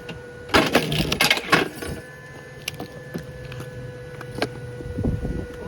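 A Ryobi 40V kinetic log splitter drives through a log with a sharp burst of cracking and splintering wood, followed by a few lighter knocks and creaks as the pieces settle, heard close and without talk.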